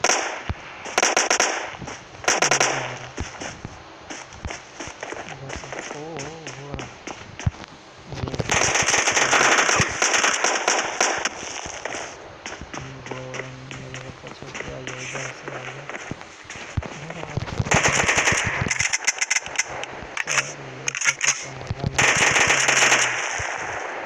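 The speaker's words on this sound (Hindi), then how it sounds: "नीचे कोई है, वो गोली चला रहा है" Gunfire crackles in the PUBG video game in repeated bursts and sharp single shots, some near and loud, separated by quieter stretches of movement and footsteps.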